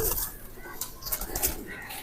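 Pigeons of the Hercules, Bullet and Bruce Lee bloodlines in a crowded loft, with soft cooing and brief wing flutters continuing nearby under a faint background voice.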